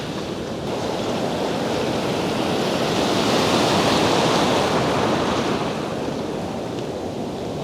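Ocean surf on a beach on a day of strong, repeated waves: a loud, continuous roaring wash of breaking water. It swells slightly in the middle and is heard alone, with no voices.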